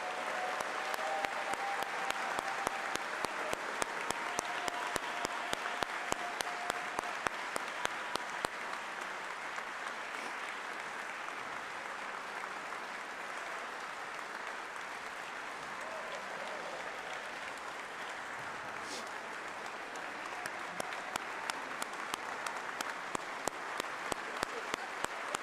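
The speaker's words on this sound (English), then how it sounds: "Ladies and gentlemen, one last round of applause for our inductees." An audience at an athletic Hall of Fame induction ceremony claps for the inductees in sustained, even applause that lasts the whole stretch, moderately distant, with a brief swell near the end.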